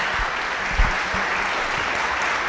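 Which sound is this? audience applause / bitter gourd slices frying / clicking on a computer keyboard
audience applause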